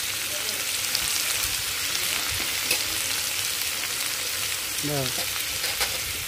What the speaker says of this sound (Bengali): এই তেলে দিয়ে দিব সিদ্ধ করা আলু